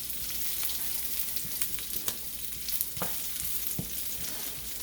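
Curry shrimp stir-fry in a pan with a soft, steady sizzle of oil, broken by light scrapes and taps of a utensil, quiet and close with no talking.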